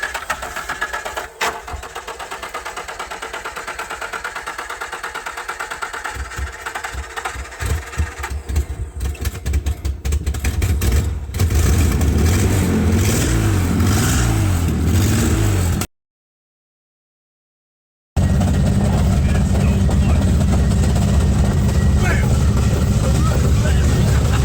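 A Dodge Charger engine cranks and fires up, then revs hard with a loud, rough rising and falling roar close by, voices audible early on, broken by a short gap before the engine resumes.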